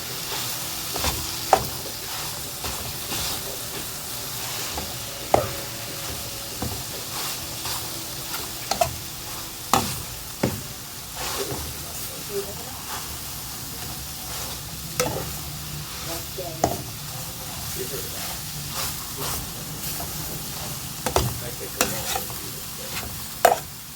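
Sautéed aromatics for salmon miso sinigang sizzle steadily in a pan while a utensil stirs them, with sharp scrapes and clacks against the pan every few seconds and no talk.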